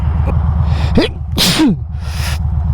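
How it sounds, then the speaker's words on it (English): A single close sneeze muffled inside a motorcycle helmet, with sharp bursts over the steady low drone of the motorcycle engine and wind on a rough commuting road. "I hate sneezing in my helmet."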